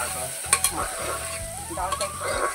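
Washed lentils stirred in a pan for vegetarian khichuri, a spoon scraping and clacking against the metal in a few quick knocks over a soft, steady sizzle of oil.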